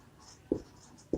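A pen marks an equivalent circuit diagram for a two-port network in two short, quiet strokes spaced about half a second apart over faint background hiss.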